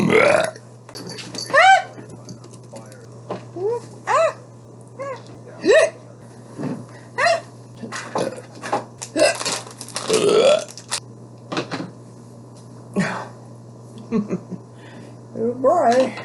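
Repeated loud, deep belches from a woman come in irregular bursts, close to the mic, some paired with hiccup-like gulps, and brief talk falls between them.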